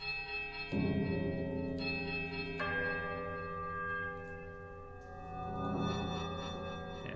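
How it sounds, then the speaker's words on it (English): Three bells rung in a door-opening puzzle in Pillars of Eternity strike one after another, each a resonant clang that hangs and overlaps the last; one brief spoken word is heard near the end. "It's these 3 bells here, we have to ring them in a certain order to open the door."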